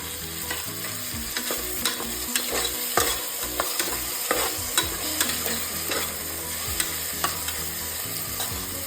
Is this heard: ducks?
no